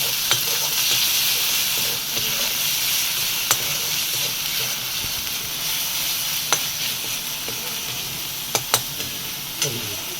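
Hand-ground masala with turmeric fries in a pan for a snail (ghuli) curry, a steady close sizzle with occasional sharp clicks of stirring throughout, no talk.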